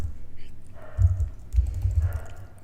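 Fingers tap a computer keyboard in a few short bursts of clicking, close and fairly quiet, with brief pauses between runs of keystrokes.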